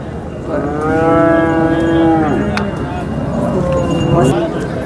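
Holstein Friesian cattle moo repeatedly at a busy livestock market, with long drawn-out calls that rise and fall under steady crowd chatter and people talking nearby.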